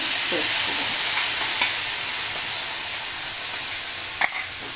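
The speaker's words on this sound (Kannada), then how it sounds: "ಇದೆಲ್ಲ ಸ್ವಲ್ಪ ಫ್ರೈ ಮಾಡೋಣ ಇವಾಗ ರುಬ್ಬಿರೋ ಟೊಮೊಟೊನ" Ground tomato paste fries in a pan, giving a loud, constant close sizzle and hiss with faint stirring scrapes and a brief clink near the end, no talk.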